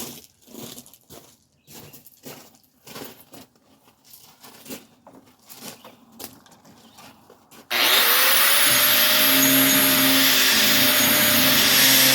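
Rattan SCA sword being shaved down, with scraping, rubbing strokes of a blade across the wood followed by a sudden loud, steady power-tool roar that runs to the end.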